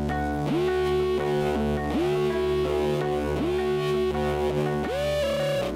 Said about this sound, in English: I like the kind of distortion on this. It's like almost like a siren.